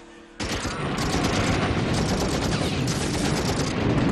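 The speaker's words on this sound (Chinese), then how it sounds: "苏州河畔，国共两军正在激烈交火" Heavy gunfire in a battle between Nationalist and Communist forces along Suzhou Creek in Shanghai; after a brief quiet start, sustained machine-gun and rifle fusillades crackle loudly and continuously.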